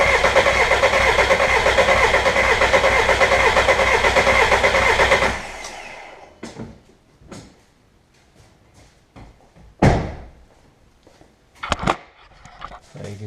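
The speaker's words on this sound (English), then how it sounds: "Then we're going to just crank it until fuel comes out." A VW TDI diesel with the ALH engine cranks over loudly and steadily for about five seconds, then stops; afterward only scattered clicks, taps and handling noises remain with no talking.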